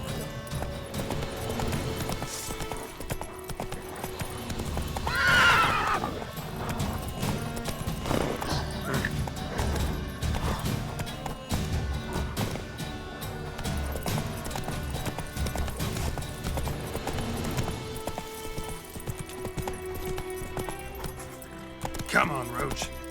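Horse hooves clopping at a gallop with a brief neigh, from the horse Roach in The Witcher 3: Wild Hunt, steady throughout under game music, with someone speaking at times.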